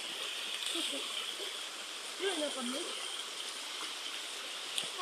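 A woodland stream flows with a constant rushing babble, while a person speaks briefly over the water.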